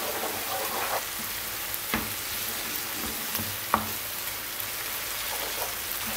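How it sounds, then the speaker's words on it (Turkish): Kısır ingredients sautéing in a pan, giving a steady, faint sizzle with a few soft clicks and taps from stirring, and no talking. "Şöyle 1-2 dakika daha kavurup alacağım artık."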